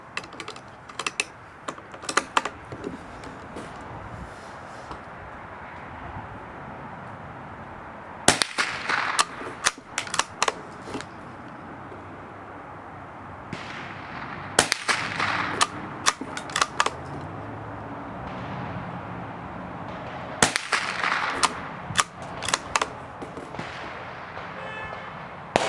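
A Savage Mark II .22LR rifle fires five rounds outdoors, sharp cracks spaced several seconds apart, each followed by faint clicks and rustles of cycling the bolt and handling.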